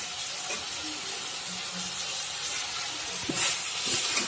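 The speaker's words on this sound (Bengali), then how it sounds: "এই কষাচ্ছি" Chicken with tamarind being sautéed (kosha) in a pan, giving a steady low sizzle with faint stirring scrapes and a brief louder clatter near the end.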